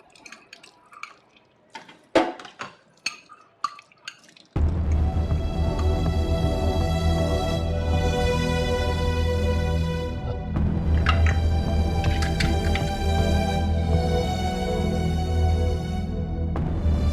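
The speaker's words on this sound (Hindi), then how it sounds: "नलका भी ख़राब हो रहा है, हल्का हल्का पानी निकल रहा है।" A faulty household water tap lets a thin trickle run, heard as scattered drips and splashes with a few clinks for about four seconds before loud music swamps everything.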